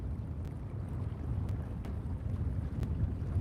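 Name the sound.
wind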